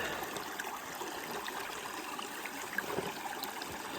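Water runs steadily through a gold sluice box with a soft, even trickling and rushing, a faint continuous flow outdoors with no voices.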